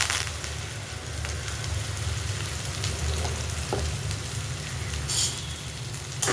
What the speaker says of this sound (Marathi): इथं घेतलेला आहे कढीपत्ता आणि कांदा घेतलेला आहे चिरून, तो पण टाकून घेऊया